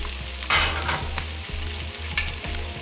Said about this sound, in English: Saute the onion for some time.